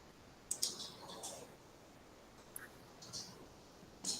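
Faint computer mouse clicks, a few sharp isolated taps spaced irregularly over quiet room noise.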